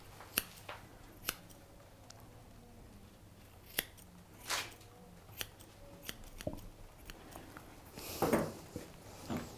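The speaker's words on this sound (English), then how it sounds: "We will just neaten the bottom edge with the straight scissors." Straight grooming scissors neatening the bottom edge of an English springer spaniel's leg feathering, a series of crisp close snips at irregular intervals with soft rustling of fur between cuts, no talking.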